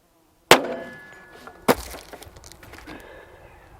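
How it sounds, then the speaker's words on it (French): A 10mm Auto pistol fires at a cheap ballistic plate outdoors: a sharp, loud crack of the shot, then a second hard impact about a second later, trailing into faint rustling and ambient noise. "on va lui mettre un petit coup de 10 mm auto"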